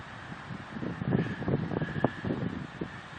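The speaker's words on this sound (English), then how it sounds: "here comes another gust" Gusty wind in a late summer windstorm rushes and buffets the microphone in uneven surges, rising and falling across the moment, with rustling leaves faintly beneath.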